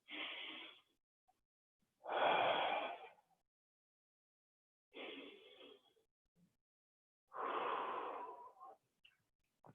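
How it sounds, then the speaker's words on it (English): Four big, deep breaths taken during an exercise session, each a loud, airy inhale or exhale lasting about a second, separated by quiet gaps, close to the microphone. "And 2 more big breaths here."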